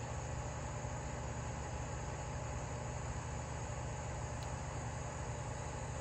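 Old chainsaw engine running steadily with throttle lock on, a continuous loud buzzing drone with no pauses, alone without talk.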